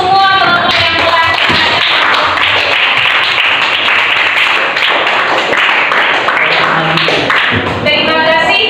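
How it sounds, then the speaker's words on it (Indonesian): Classmates in a classroom clap together for one another, a loud, dense burst of hand clapping lasting several seconds, with a voice heard briefly at the start and end. "Tepuk tangan untuk semua teman-teman yang telah."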